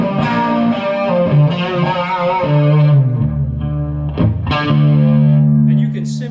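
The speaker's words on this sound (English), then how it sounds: "the sound of your delay being distorted a little bit by putting distortion in front of it" Electric guitar playing through Maxon chorus and distortion pedals, with a delay pushed into grit by the distortion placed before it, sustained distorted chords and repeating echoes ringing loud and steady for the whole stretch.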